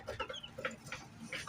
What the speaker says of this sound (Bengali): এখানে আছে আমার কাদাকনাথ, কাদাকনাথ মুরগির বাচ্চা, নতুন বাচ্চা